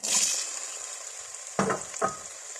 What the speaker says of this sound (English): So the next thing basically is to add my onion.